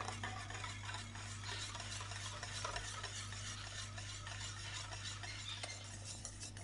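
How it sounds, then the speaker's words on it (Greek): Steady stirring scrape of a spoon through a pot of hot milk custard cream for ekmek kataifi, with a faint sizzle and low hum under it, continuous and close. "το ρίχνω μέσα στην κατσαρόλα με το γάλα και ανακατεύω"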